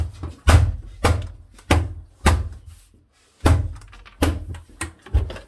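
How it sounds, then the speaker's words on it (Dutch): A lid bangs down onto a dog food bin again and again, giving about eight sharp, close thunks at irregular intervals with brief pauses between them. "En ik ga de deksel even hier er even op knallen."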